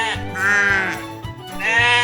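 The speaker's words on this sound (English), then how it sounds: "Sheep." A sheep in a children's animal game bleats loudly and close, two long wavering bleats with a short gap between them.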